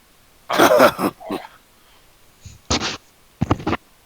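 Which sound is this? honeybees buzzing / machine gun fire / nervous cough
nervous cough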